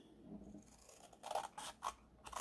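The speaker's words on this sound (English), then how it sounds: "I lined my scissors up and I cut across." Scissors cutting straight across a sheet of paper, a few crisp close snips and slicing strokes in a quiet room with no voices.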